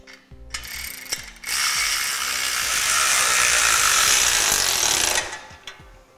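A ratchet wrench tightens hardware on an accessory holder for a Pack'Em utility trailer, opening with a few sharp clicks and then a sustained, loud, close run of rapid ratcheting for several seconds before it stops.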